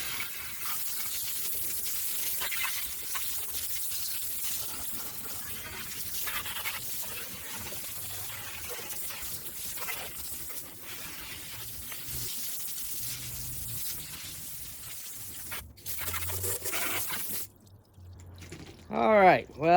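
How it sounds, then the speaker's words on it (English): A hose sprays water over a mini bike during a scrub down, giving a steady hissing, splashing wash with scattered drips. Near the end it breaks off into a few louder, uneven bursts. "I'm gonna go ahead and hose that off now."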